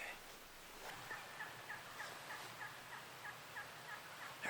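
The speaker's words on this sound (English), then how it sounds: "We got this one gobbler down the road here," Wild turkey gobbling in mountain woods during a spring hunt, a faint, distant bird calling in a quick repeated series over a quiet outdoor background.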